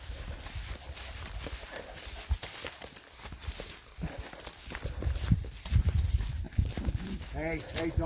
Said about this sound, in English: You want to meet the horses, Stubby?